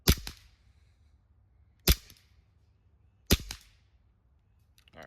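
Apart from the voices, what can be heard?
Barra 009 full auto CO2 BB gun pistol firing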